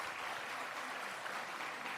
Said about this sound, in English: Can we hear a big round of applause for our performers?